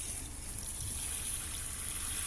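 Water trickles and splashes softly as plants growing red lettuce in a wall-mounted planter bag are watered, a steady faint wash of liquid with a hissy top end and no voices.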